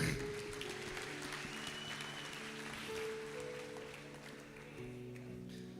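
A church congregation applauds in a steady wash of clapping, with sustained musical tones, likely organ or keyboard, running underneath; moderately quiet and continuous.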